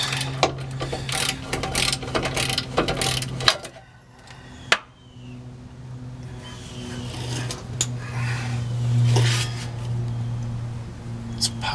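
Ratchet wrench cranking a nut off the drive shaft center bearing bolt on a Chevy 2500HD pickup, rapid repeated clicking bursts close up, then a pause and a few quieter mechanical clicks and knocks.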